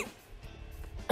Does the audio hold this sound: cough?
yes